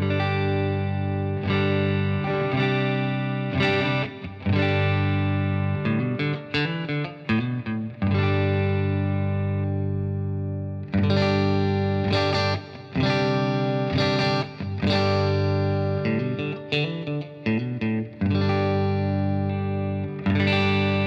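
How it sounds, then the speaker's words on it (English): A clean electric guitar, a Jet Guitars JS 400 strat-style on its neck pickup, played alone, ringing chords and single notes with a warm, rounded tone, pausing briefly midway before continuing. "let's hear some clean tones, starting with the neck pickup."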